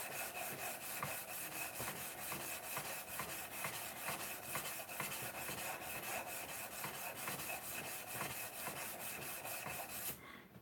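Wood sanded by hand on a bevel, a close, steady rasping rub in quick regular back-and-forth strokes that continues for about ten seconds before stopping.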